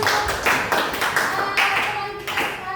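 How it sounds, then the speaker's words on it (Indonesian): A secondary school history class gives a round of clapping for a student, with several bursts of hands clapping in uneven waves, fairly close, with faint voices in the background. "kita berikan tepuk untuk"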